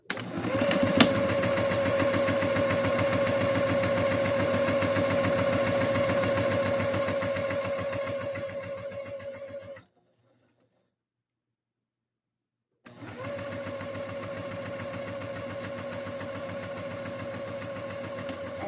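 A sewing machine runs steadily in long humming stretches with a rapid needle rhythm, stops for a few seconds of silence, then starts up again for another run.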